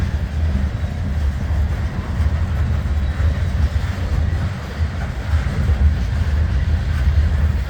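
An eastbound CSX mixed freight train rumbles past slowly and continuously, a loud, heavy low roar with rattling cars rolling by steadily and no voices.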